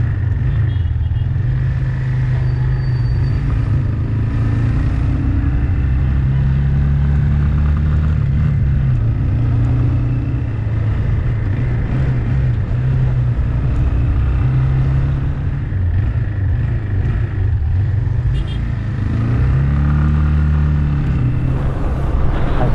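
Motorcycle riding along a road in Nigeria near the Seme border with Benin, its engine a steady loud drone with slight swells in revs, heard close throughout with no talk.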